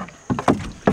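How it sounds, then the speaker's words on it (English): Wooden paddles dip and pull through the water alongside a canoe, three or four brief splashing strokes over a second, close by with faint wind behind. "And then you use your paddles from here on out."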